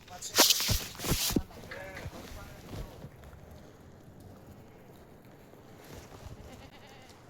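Goats at a livestock market being bargained over bleat loudly and close in a quick cluster of calls, then fainter bleats and rustling shuffles continue under a quieter background.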